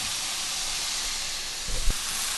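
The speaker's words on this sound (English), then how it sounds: "Add some of our greens. I'm just going to let that saute for a minute." Greens sauté in a pan with a steady, close hiss and sizzle, plus a brief bump of stirring near the end, with no one talking.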